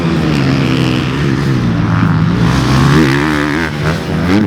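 A 2024 GasGas MC350F dirt bike engine revs hard and close, a loud continuous buzzing drone whose pitch sweeps up and down as the throttle is worked, with no voices.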